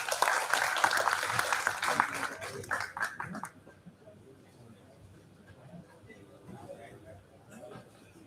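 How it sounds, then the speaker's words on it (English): An audience at a national seminar applauds as a guest of honor takes the stage, a dense burst of clapping for about three seconds that drops away to quiet murmuring and room chatter. "A round of applause, please."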